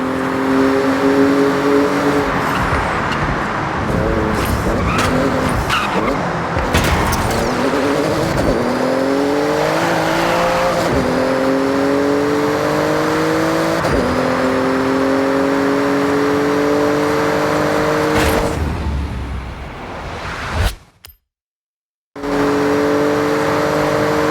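A Porsche race car in the racing video game Forza Horizon 6 blasts through a speed zone, its engine revving hard through repeated upshifts with sharp gear changes, loud and continuous, then a brief silent gap before the engine roars again.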